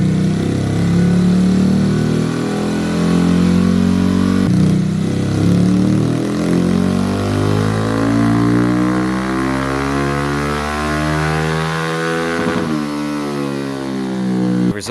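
A Honda Grom motorcycle with over 21,000 miles runs on a dyno, its small single-cylinder engine droning loud and steady as it revs up through a rising sweep, then cuts off near the end.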